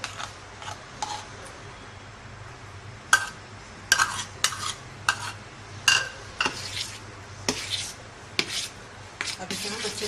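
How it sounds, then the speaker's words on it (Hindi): Mango puree is stirred for ice cream, giving a series of scraping, rasping strokes against the container, irregular and close, with quiet pauses between bursts. "अब इसे हम अच्छे से मिक्स कर लेंगे।"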